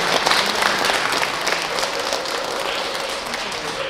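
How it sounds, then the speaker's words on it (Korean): Dense, sustained applause from a crowd at a Korean Buddhist temple installation ceremony, many hands clapping together in a steady wash that stays loud throughout. "확실하게 박수 주셨습니다."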